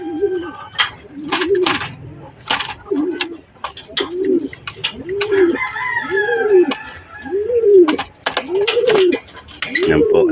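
Pigeons coo repeatedly in a steady rhythm of low, rounded calls, close and clear, with other birds chirping and a faint crow in the background.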